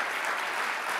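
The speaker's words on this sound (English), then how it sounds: "So let's give a round of applause for Yuri." A brief burst of dense audience applause at a science symposium welcome session, heard alone with no talking.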